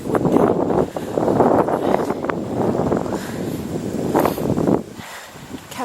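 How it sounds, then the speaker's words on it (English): Gusty wind blows outdoors, buffeting the microphone in loud rumbling bursts that ease off near the end. "it is a little bit windy"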